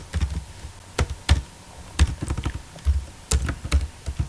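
Code being typed on a computer keyboard, a rapid run of crisp key taps in uneven bursts with brief pauses, close and fairly loud with no voices.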